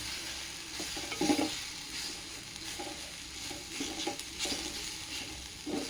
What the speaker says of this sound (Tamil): நெய் ஊற்றி இதில் வதக்கியிருக்கேன் நான்.